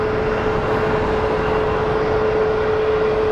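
A fixed-wing airliner on approach to Phoenix Sky Harbor International Airport roars loudly and steadily overhead, a sustained broadband engine rumble with a faint steady whine.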